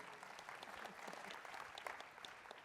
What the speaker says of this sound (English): So Pat, that's a little round of applause there.